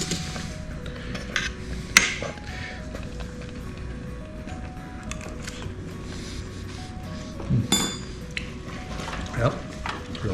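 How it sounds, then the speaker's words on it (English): A spoon scraping and stirring Parmesan cheese into mushroom risotto in a pot, with clinks against the metal sides and a few sharper knocks, under steady background music. "I'm going to add some Parmesan cheese. Just going to mix that in there."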